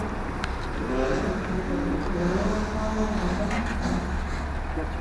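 An old motorbike engine starts and idles in a low, steady rumble that holds close and even throughout, with some talk alongside.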